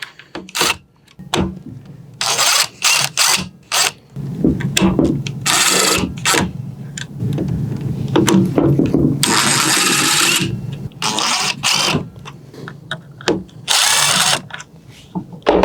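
A power drill removes the screws holding the motor of a DeWalt DWS780 miter saw, whirring in repeated short bursts with starts and stops, close and loud, with handling noises between runs.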